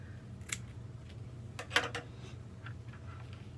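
Scissors snip through material for a cross-shaped wreath, a few sharp crisp cuts near the start and middle over a low steady room hum, no speech.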